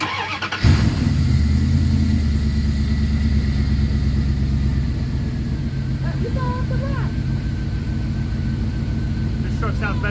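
A Dodge Dakota 5.9 R/T pickup truck V8 engine, previously abandoned, idles steadily with a low, throbbing rumble, close and loud, starting abruptly after a brief moment and running continuously.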